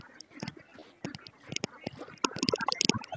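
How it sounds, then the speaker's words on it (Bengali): Khaki Campbell ducks, a flock of about 250 on a farm, give scattered short quacks and rustling calls at close range. The calls thicken into a busier chorus toward the end. "এই যে হাঁসগুলো"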